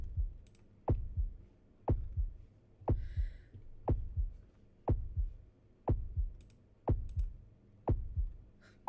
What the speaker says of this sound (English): The heartbeat sound. It's supposed to make me feel anxious.